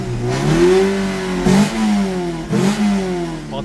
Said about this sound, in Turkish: Yani yüke binmek derken işte biraz devir çevirince.